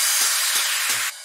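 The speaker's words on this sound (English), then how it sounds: "The white noise is just to fill out the frequency spectrum" A bright white-noise hiss effect from a happy hardcore track sounds loud and close, with a few soft low thumps under it, then cuts off abruptly near the end.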